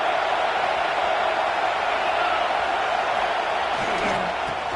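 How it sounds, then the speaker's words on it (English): A large football stadium crowd roars in the final minute of a UCLA vs Notre Dame game, a broad, sustained wall of cheering that holds steady and loud throughout. "The crowd is really getting into it."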